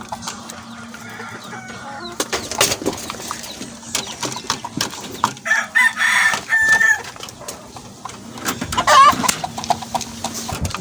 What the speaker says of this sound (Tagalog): Yan pong pinapakain ko sa aking mga alagang manok.